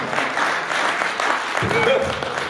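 An audience at a free comedy show in a VA hospital claps steadily, a broad continuous patter of hands with voices audible over it.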